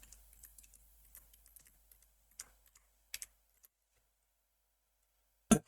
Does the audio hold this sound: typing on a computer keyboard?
yes